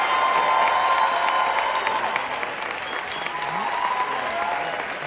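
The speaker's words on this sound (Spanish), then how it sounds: "un muy fuerte aplauso para Crisanta Gómez" A theatre audience applauds a performer at a celebration of a play's 100th performance, steady dense clapping from a large crowd with some cheering mixed in.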